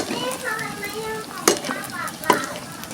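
Dried squid fries in a pan with a steady, dense sizzle, broken by a couple of sharp clicks from a utensil, while voices murmur faintly behind the cooking.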